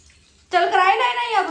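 Water splashes and runs steadily in a bathtub as a small child plays while being bathed, starting abruptly after a quiet moment and continuing loud and close with shifting sloshing texture.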